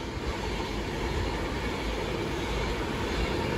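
A Class 390 Pendolino electric train rushes through Stafford station, a steady loud broadband roar and rumble of wheels on rail held throughout with no pauses.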